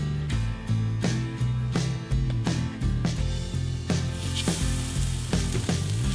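Bear burger patties sear in a pan preheated to medium high, giving a loud, close sizzle with rhythmic scraping or tapping strokes about every half second, steady throughout with no speech.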